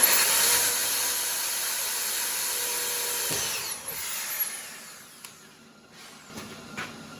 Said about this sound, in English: Now we're going to drill a half-inch hole in here.